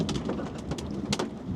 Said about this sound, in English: This is taking rain on a tin roof to a whole new level